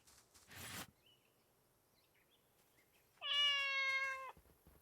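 A cat meows in the video game The Good Life: one loud, drawn-out meow with a clear harmonic tone, sounded alone near the end after an earlier short burst of noise and soft background game ambience.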